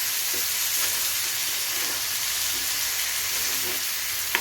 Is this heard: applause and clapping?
no